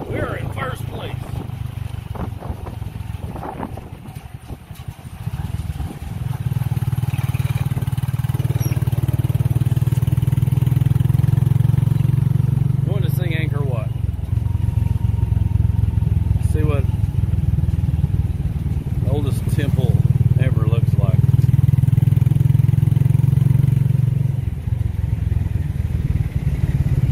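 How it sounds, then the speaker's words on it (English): Small tuk tuk engines race nearby, a loud, buzzing, rattly drone that surges and holds for long stretches with brief drops between, while people talk over the noise. "Here we are at the Tuk Tuk Races"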